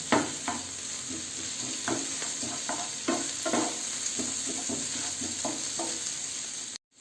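Chicken and vegetables for Hakka noodles are stir-fried in a hot pan, giving a continuous sizzle broken by repeated scraping and tossing strokes of a spatula, close and moderately loud with no talk.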